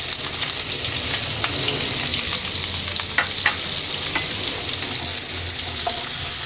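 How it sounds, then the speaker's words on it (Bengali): Chopped onions with whole cumin fry in hot oil for a fish and bitter gourd curry, giving a continuous close sizzle with scattered crackles and soft stirring scrapes throughout. "পেঁয়াজটাকে হালকা ভেজে নেব।"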